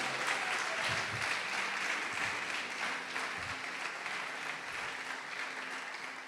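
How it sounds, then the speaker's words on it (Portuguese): A church congregation applauds during a sermon, a steady, even wash of clapping that holds for several seconds at moderate level, with a faint low voice murmuring beneath it. "Pode aplaudir, glorificar."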